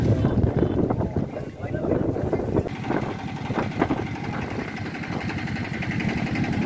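Boat out on Hasaigari beel, a wetland lake in Naogaon, with a low engine drone and water and wind noise buffeting the microphone, running steadily under a voice talking throughout.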